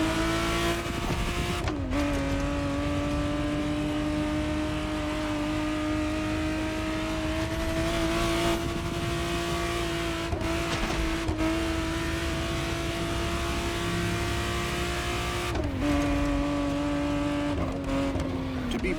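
A 1991 Ferrari Testarossa 512 TR flat-twelve in The Crew Motorfest drones loudly and steadily at high revs, with sharp drops at gear changes around the start and near the end, plus faint tire noise.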